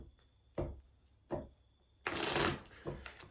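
Tarot cards being shuffled by hand, with several crisp riffling bursts and a longer loud shuffle near the end, close to the microphone, with no talking.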